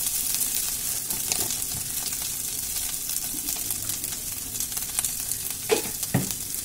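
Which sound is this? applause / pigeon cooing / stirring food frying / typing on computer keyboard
stirring food frying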